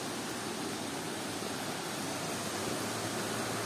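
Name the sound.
waterfall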